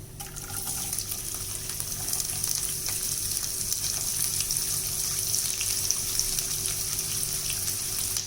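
Onions sizzle and fry steadily in a hot pan for tomato rice, a continuous crackling hiss with no talking, close and fairly even throughout.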